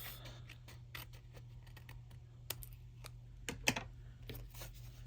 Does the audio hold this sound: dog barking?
no